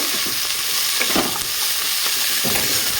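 Vegetables, beans among them, lightly frying in a pan for a vegetable soup: a steady close sizzle with scraping stirs at intervals, no talking.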